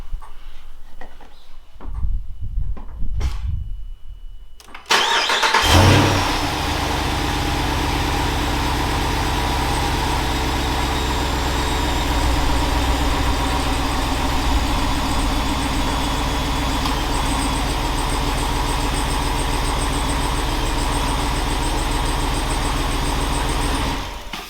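A Chrysler 392 V8 cranks and fires up after an oil and filter change, then settles into a steady, loud, even idle that runs uninterrupted after a brief quiet start.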